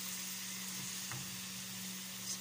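Camel liver stir-fried dry in a pan with no water added, giving a steady soft sizzle and hiss throughout with a faint clink near the middle.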